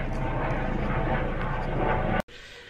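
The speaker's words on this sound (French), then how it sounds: "Ah, il y a un hélicoptère qui passe." A steady, loud engine roar of a helicopter passing overhead, constant for a couple of seconds before cutting out suddenly.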